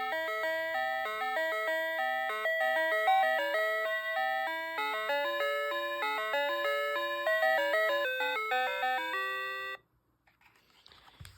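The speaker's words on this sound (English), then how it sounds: "Versus the infamous doorbell." An infamous novelty doorbell running on underpowered rechargeable batteries plays a long electronic chime melody of steady stepped tones for about ten seconds, then cuts off, followed by a few faint clicks, close and clear.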